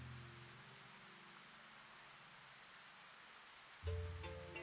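Soft, steady rain hiss from the video game Rune Factory: Guardians of Azuma, a faint continuous wash that runs throughout, with a brief musical tone entering near the end.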